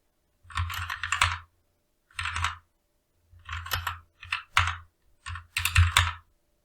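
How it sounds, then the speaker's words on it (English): Username typed on a computer keyboard, close, crisp key clicks in several quick bursts separated by short silent pauses. "I'm going to type in my username"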